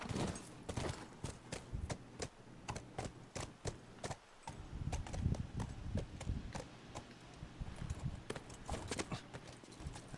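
Horse hooves clip-clop in The Last of Us Part II, a steady series of sharp, close hoof strikes at a walking pace, continuing throughout with a brief pause midway and no talk.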